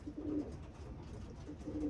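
Racing pigeons in a one-loft race loft coo softly in low, burbling phrases, with a few calls rising and fading over faint background noise.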